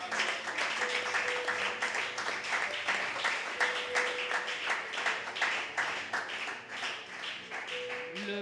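A church congregation applauding during a French-language worship service, steady dense clapping throughout with a rhythmic pulse, with a sustained tone and background voices mixed in.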